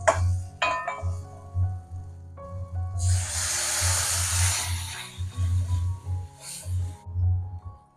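Tamarind water hits a hot pan while making a South Indian curry, a sudden, loud sizzling hiss that swells, lingers a couple of seconds, then dies away over a steady low hum.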